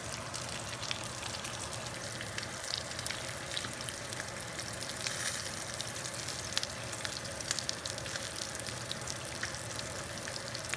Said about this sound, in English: hear that sizzle